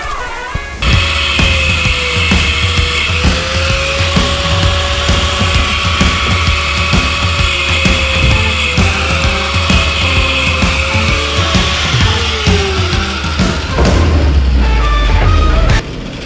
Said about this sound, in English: These wheels really like to grab aluminum, stainless as well